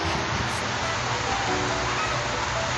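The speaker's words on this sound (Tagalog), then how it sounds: "Sobrang lakas ng ulan guys." Heavy rain pours down steadily as a dense, loud, unbroken hiss that fills the whole clip with no pauses, falling on an outdoor village lights-and-sound setup in Masbate.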